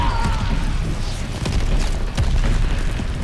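Missile explosions in Call of Duty: Vanguard, heard as heavy rumbling booms and crashes in a dense battlefield din. The blasts overlap one another without clear breaks.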